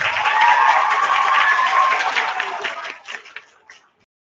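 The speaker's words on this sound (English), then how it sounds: "let's give our mathematicians up here a big round of applause" An audience of parents and pupils applauds second-grade students at a school honor roll assembly, a full wash of clapping that holds steady, then thins to a few scattered claps before stopping.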